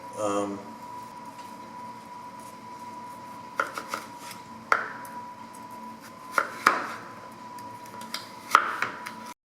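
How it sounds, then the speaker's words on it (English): A kitchen knife cuts a sweet potato into one-inch cubes on a board, giving several sharp, close chops at irregular intervals over a low steady hum. "Now I'm going to cut this sweet potato into 1-inch cubes."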